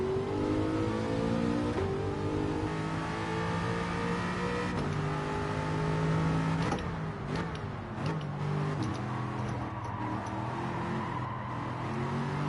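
A GT4 race car engine in Gran Turismo 7 drones steadily at high revs, climbing through gears with a few shifts and throttle changes, loud and continuous with no voices.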